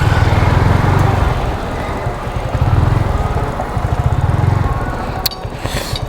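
A Yamaha MT-15 V1 motorcycle engine idling loud and close in a rough pulsing rhythm, slowing near the end before a sharp click.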